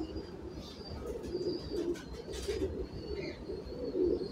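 Pigeons in a fancier's loft coo in soft, repeated low calls over a steady background hum, with a few faint chirps above.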